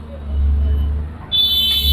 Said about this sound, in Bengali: তবে এই দিক দিয়ে গাড়ি চলতেছে